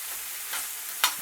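Asparagus fries in oil in a pan with a soft, steady sizzle and a brief sharper crackle near the end.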